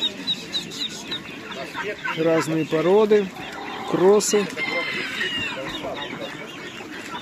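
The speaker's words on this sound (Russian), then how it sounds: "А здесь молодые куры." Young laying hens of various breeds and crosses at a bird fair in Kropotkin, clucking and giving short cackling calls nearby in a noisy crowded setting, with a person speaking briefly among the calls.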